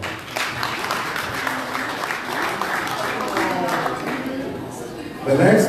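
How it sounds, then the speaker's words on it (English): Audience applause at a diaspora fundraising dinner for a political party, steady broadband clapping lasting several seconds with crowd noise and voices mixed in, swelling louder near the end. "Please give yourself a round of applause."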